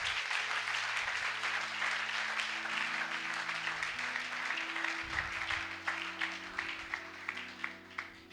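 A church congregation applauding, dense sustained clapping that thins into separate claps toward the end, with organ or keyboard chords sounding underneath.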